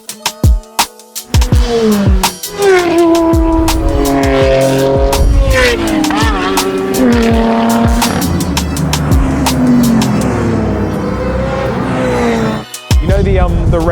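Supercars, among them a red BMW E92, roar past on a race track: loud engines rising and falling in pitch as they pass close by, with tire noise and a few gear changes.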